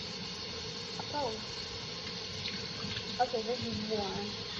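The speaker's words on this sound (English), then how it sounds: "Okay, put warm water on it." Warm water runs steadily from a tap onto slime in a sink, a continuous broadband hiss lasting the whole stretch, with brief voices talking faintly over it.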